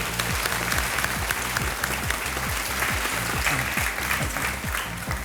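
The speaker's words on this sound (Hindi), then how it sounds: "तालियां बज जाए इनके लिए।" Studio audience on the KBC quiz show breaks into loud, sustained applause, a dense continuous roar of clapping for several seconds with rhythmic low music pulsing beneath it.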